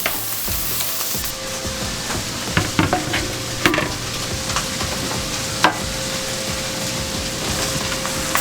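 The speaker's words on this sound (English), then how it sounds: "Now we're gonna add back the hamburger meat and the rest of the ingredients." Hamburger meat being stirred as it sizzles in a hot pan while other ingredients go in for a keto cheeseburger casserole; steady frying crackle with scattered utensil scrapes and clicks, close up, no talking.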